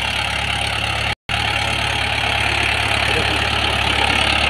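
A Mahindra 575 DI XP tractor in low gear, pulling a trolley loaded with wood, runs with a steady, rough diesel drone. The sound is continuous and close, apart from one very brief dropout.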